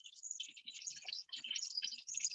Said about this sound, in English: See how it's sizzling?